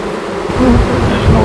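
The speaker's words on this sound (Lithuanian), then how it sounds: "toks didžiulis kiekis bičių" A large swarm of bees buzzes loudly and close by, a dense, continuous droning hum that swells slightly partway through, with no voices.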